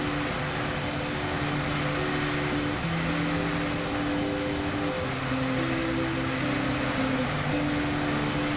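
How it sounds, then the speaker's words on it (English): In Microsoft Flight Simulator 2020, an A380 airliner runs with reversers at full, a steady broadband roar layered with droning engine tones that shift in pitch throughout, with no talking. "All right, reverser set to full."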